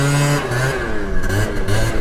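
A scooter engine on its stock carburetor revs hard and loud, its pitch rising and falling in close, steady pulls with no talking over it.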